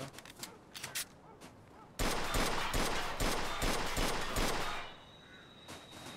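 Rapid bursts of gunfire in Mafia 2, loud and close, crackling in dense volleys for about three seconds before easing to a quieter background.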